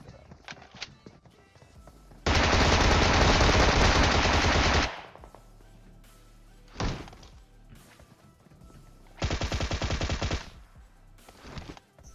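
Gunfire in the battle royale video game PUBG, including a Bizon submachine gun: two long, loud automatic bursts and a short rattling burst, with lighter game sounds and faint talk between them.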